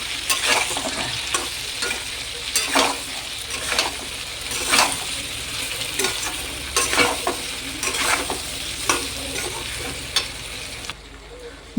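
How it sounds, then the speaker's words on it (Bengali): Raw green mango pickle being stirred with salt in a pan, a series of close, rhythmic scraping and mixing strokes with wet squelches between them, no speech. "এবার এগুলোকে ভালো করে মিশিয়ে নেব।"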